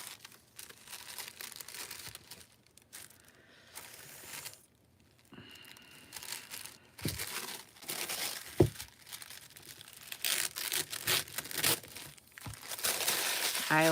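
Tim Holtz paper being crumpled by hand for decoupage, with intermittent crinkling and rustling bursts, some sharp crunches and a louder stretch near the end, close to the microphone.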